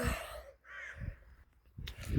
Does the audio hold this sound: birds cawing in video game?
yes